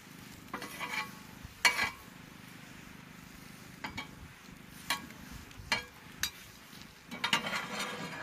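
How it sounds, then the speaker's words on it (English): Scrambled eggs sizzling softly in a pan at a campsite, with a faint steady hiss broken by scattered clicks and scrapes of a utensil stirring against the pan. "Making some breakfast. Some scrambled eggs."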